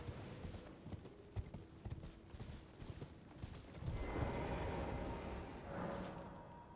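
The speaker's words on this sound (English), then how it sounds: "So this is Torrance, our little horse friend." Hooves of Torrent, the spectral horse in Elden Ring, clip-clopping in a steady rhythm close by, then giving way to a louder rushing wash of sound, with no talk.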